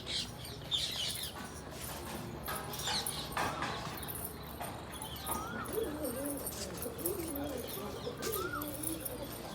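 Pigeons kept at home cooing softly in low, rolling murmurs, several birds nearby amid ambient household noise and faint other sounds.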